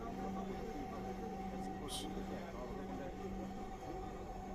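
Steady rumble and hum from inside a moving metro train, a constant low drone with faint rattles throughout.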